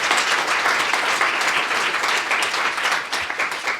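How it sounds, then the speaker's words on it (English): An audience gives a warm round of applause, a full, continuous patter of many hands clapping at steady loudness, tapering slightly near the end. "give a round of applause to Natasha Mitchell"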